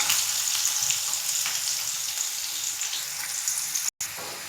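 Chopped onions, green chillies and curry leaves fry in a pan with a steady, close, bright sizzle and crackle, a brief cut near the end and then the frying resumes.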